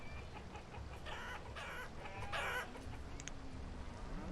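Chickens clucking in the farming game Banished, a few soft clucks and calls repeating over a steady ambient game background, fairly faint throughout.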